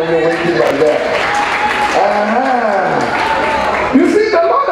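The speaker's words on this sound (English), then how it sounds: "Clap for yourselves for even waiting like that" Audience applause at a stand-up comedy show, a steady wash of clapping that fills the room throughout, with a voice speaking over it.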